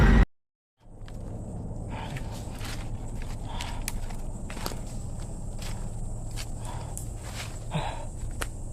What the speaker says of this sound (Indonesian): ada suara langkah kaki.